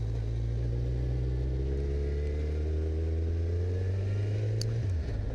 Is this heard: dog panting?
no